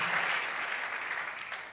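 A church congregation applauding and cheering at a sermon, steady dense clapping at moderate volume throughout with no voices on top.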